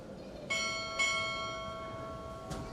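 A ship's bell at a Navy recruit training chief petty officer pinning ceremony rings two close strikes, each with a long shimmering decay, followed later by one faint tap.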